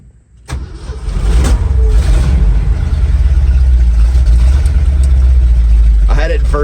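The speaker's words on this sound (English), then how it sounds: "This is a cold start." Cold start of a 1975 Ford F250 Highboy with a non-working choke: a quiet lead-in, a sharp catch as the engine fires, then a loud, steady low rumble settling into a rough idle.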